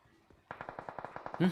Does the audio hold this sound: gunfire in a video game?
yes